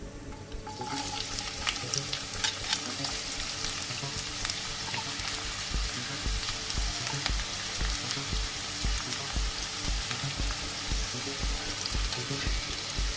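Chopped onions fry in hot oil for a Spanish omelette, a loud, steady sizzle and crackle that runs throughout with soft, regular low knocks beneath it and no voices.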